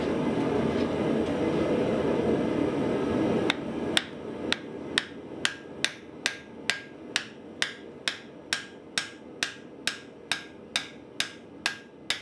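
Steel teeth being hammered down to lock a hatchet head in blacksmith ax eye tongs: after a few seconds of background rumble, about sixteen sharp, ringing metal blows fall in a steady, slightly quickening rhythm, close and loud with no talk.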